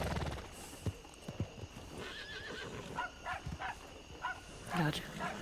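A horse in a video game whinnies near the end over clip-clopping hooves, a dog barks faintly, and people talk throughout against steady game ambience.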